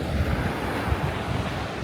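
Waves wash onto a beach in Western Australia, a loud continuous surf roar mixed with heavy wind buffeting the microphone, with no voices.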